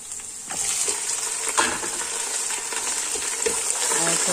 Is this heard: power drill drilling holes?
no